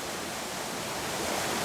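Waterfall at a hidden forest location, a loud, constant broadband roar of rushing water heard up close with no talking.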